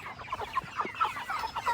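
Cornish Cross meat chickens about eight weeks old cluck and chirp together in a close, busy flock, short overlapping calls in an uneven rhythm.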